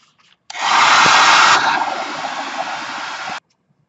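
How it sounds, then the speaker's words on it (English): A hair dryer blasts on abruptly, roars loudly and close for about three seconds with a slight drop in pitch midway, then cuts off sharply. "let me get the hair dryer"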